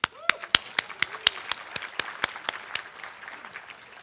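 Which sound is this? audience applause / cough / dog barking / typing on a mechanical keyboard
audience applause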